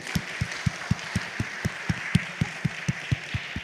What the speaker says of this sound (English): I would like to call them to stand up and we can applaud them.